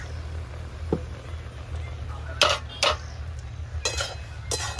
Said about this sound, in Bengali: সিদ্ধটা কতদূর হলো আমি দেখে নেব একটু, ঢাকনাটা খুলে